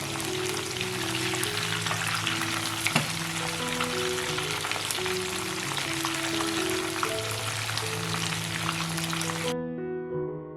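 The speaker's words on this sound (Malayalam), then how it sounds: "ചിക്കൻ വറുത്തെടുക്കുമ്പോൾ പ്രത്യേകം ശ്രദ്ധിക്കേണ്ടത് മീഡിയം ഫ്ലെയിമിൽ തന്നെ വെച്ച് വേണം വറുത്തെടുക്കാനായിട്ട്" Chicken 65 pieces deep-frying in oil over a medium flame, a steady close dense sizzle and crackle running without pause, with no talk, then cutting off abruptly near the end.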